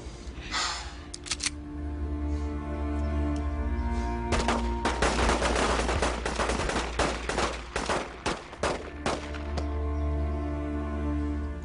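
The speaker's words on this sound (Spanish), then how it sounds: "Con estos disparos, Araceli, te despedimos para siempre." Volleys of gunfire ring out as a farewell salute at a funeral in a telenovela scene, with sharp bursts of shots clustered in the middle and scattered later, loud and close over a steady background.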